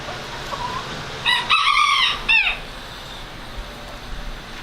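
A rooster crows loudly and close by in a farm chicken yard, one drawn-out call followed by a shorter tail, over quiet background with no talking.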